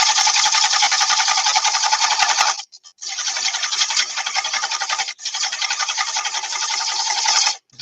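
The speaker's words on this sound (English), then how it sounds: "Back to the spindle gouge." A spindle gouge cuts wood on a lathe, giving a loud, steady rasping hiss that runs in three long continuous passes with short breaks between them.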